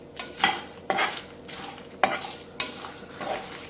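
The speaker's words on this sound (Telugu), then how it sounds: "మనకి నువ్వులు చూసారా చక్కగా ఫ్రై అయినాయి కదా, ఇలా నువ్వులు ఫ్రై అయితే సరిపోతుంది" Sesame seeds and grated coconut stir-fried in a dry pan, with a spatula scraping and tossing in four or five distinct strokes over a soft background sizzle, close and moderately loud, no talking.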